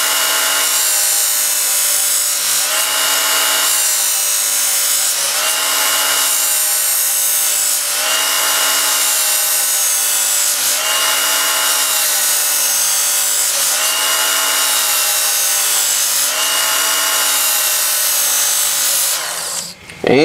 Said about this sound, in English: Use the slack of that belt to sharpen this thing up.